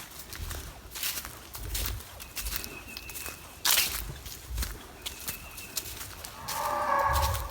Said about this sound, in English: Might be coming across some cows.